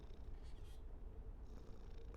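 A cat purrs softly and steadily in the video game Bear With Me: The Lost Robots, a low continuous rumble with faint game ambience over it and no voices.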